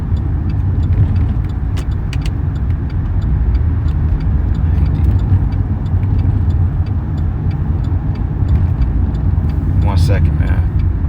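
A car drives through traffic with a steady low engine and road rumble throughout. Faint voices sit underneath, and a brief light jingle is heard near the end.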